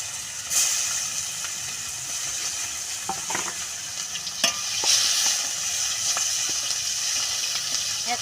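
Chopped onion fries in hot oil with cinnamon, cardamom, cloves, bay leaf and cumin, giving a steady soft sizzle with occasional stirring scrapes and clicks of a spoon in the pan.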